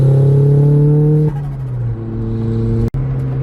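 Turbocharged widebody Mazda MX-5 Miata on a race track, its engine droning loudly and steadily from inside the car, the pitch dropping as the driver shifts and then climbing again, with a brief sharp click near the end.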